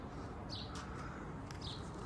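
Faint, distant starling chirps come through in a few short bursts over a steady background hiss.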